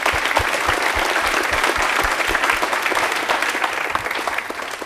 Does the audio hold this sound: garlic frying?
no